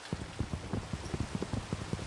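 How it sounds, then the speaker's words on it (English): Minecraft rain falls steadily in a survival world, a dense wash of hiss with soft, irregular pattering taps scattered across it, fairly close and even in level with no one talking. "day two is going to be a rainy day"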